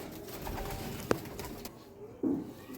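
A female Teddy breed pigeon softly cooing while being handled, a low short coo near the end over faint background rustling.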